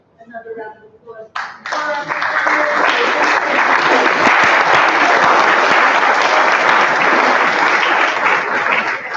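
Sustained applause from an audience at a school board of education meeting, a few scattered claps growing quickly into loud, dense clapping that holds steady for several seconds.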